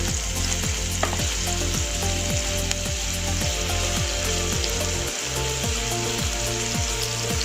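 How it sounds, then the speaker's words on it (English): Chopped garlic sizzles and fries steadily in a pan while being stirred, with a continuous close hiss and faint scraping, and no voices. "I put the chopped garlic here, and I stir the chopped garlic here for a couple minutes"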